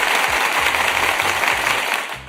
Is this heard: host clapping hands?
yes